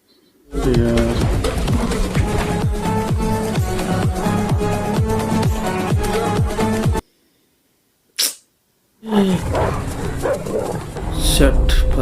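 A dog barks in a movie scene, sharp repeated yaps over music and other sound, with a sudden cut to silence and a brief burst before the scene resumes; voices are heard too.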